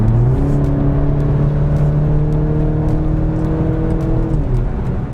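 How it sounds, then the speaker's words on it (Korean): A BMW Z4 20i in Sport Plus mode gives a loud, close exhaust drone with steady engine tones, holding then easing slightly near the end, with no talking. "배기음은 일반적인 세단에 비해서는 훨씬 더 증폭되어 있는 상황이고요"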